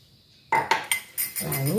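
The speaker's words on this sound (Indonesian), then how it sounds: "Kita bisa bersihkan dulu gelasnya dengan sendok biar semua margarinnya masuk ke adonan." Metal spoon scraping and clinking against a glass to get the last margarine out while making a rice cooker cake, several sharp clinks followed by a rougher scrape, close and clear.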